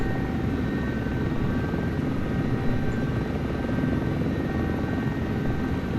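A wheeled helicopter in a desktop flight simulator approaches a helipad sideways, its rotor and engine a steady, close, droning whir with a constant low thump and faint high whine, unbroken and without voices.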